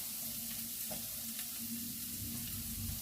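Grated carrot frying in a pan with onion over lowered heat for zucchini buckwheat patties, a soft continuous sizzle with faint stirring, fairly quiet and steady, no voices.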